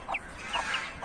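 A rooster calling nearby with a few short, loud throaty bursts in quick succession.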